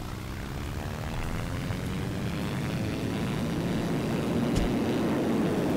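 A homebuilt propeller airplane flying in the video game SimplePlanes, its engine droning steadily and loudly throughout with no one talking.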